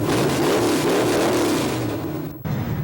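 Engine of the 13,000-pound, 754-horsepower Chevy Coors Top Dog monster truck revving hard, a loud, close, sustained roar that holds steady, drops briefly and picks back up.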